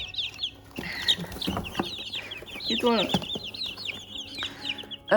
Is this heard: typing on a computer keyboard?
no